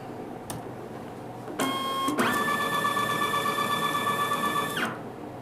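Kassen E460 label printer running off 32 x 18 mm black-mark price labels, a short, fast whirring feed of about three seconds, with clicks at the start and finish, close and clear in a quiet room.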